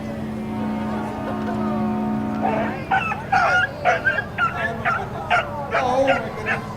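A dog at an outdoor Christmas parade gives a series of short yips, barks and whimpers in the second half, close by, after a steady engine-like hum and background crowd noise.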